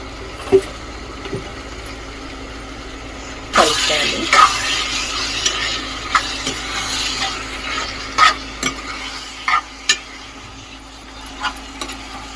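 Gongura and dried prawn curry being stirred in a pan, with a low simmering sizzle and scattered scrapes and knocks of the spoon against the pan over about twelve seconds, close up and without talk.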